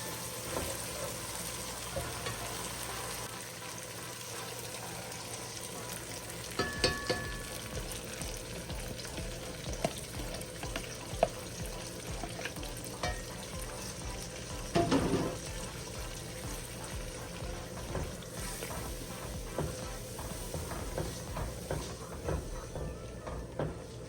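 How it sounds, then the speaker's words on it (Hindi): Masala roasting in oil in a pan with light splashes of water, a steady low sizzle and hiss close by with occasional soft clinks and stirring knocks. "हल्का हल्का पानी का छींटा भी डालती गई हूँ और इसको भूनती रही हूँ मैं"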